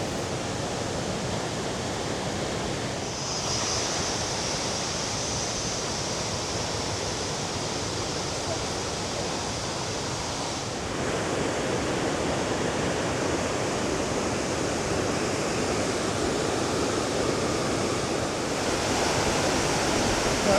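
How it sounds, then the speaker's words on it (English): Wangi Falls, flooded, roars in a constant, dense rush of water that fills the whole scene and swells slightly louder partway through. "we're getting spray from the waterfall on us, a mist."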